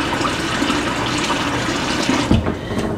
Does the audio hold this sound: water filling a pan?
yes